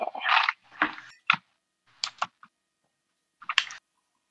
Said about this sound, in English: How loudly can you guys hear my typing?